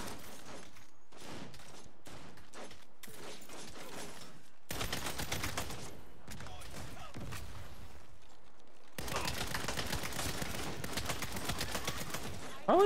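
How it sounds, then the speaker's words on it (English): Gunfire in the Saints Row video game, repeated bursts of rapid shots and fusillades in separate volleys, the later ones denser and longer, loud and close with little talk between. "Stop shooting us!"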